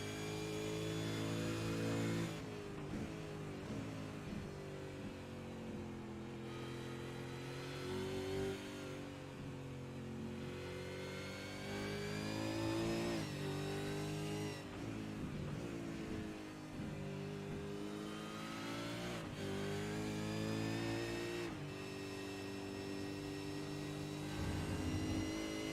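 Onboard engine of an Australasian Supercar in a sim racing game at Spa, loud and close, revving up through the gears with repeated shift drops, short-shifting to save fuel, engine note rising and falling continuously.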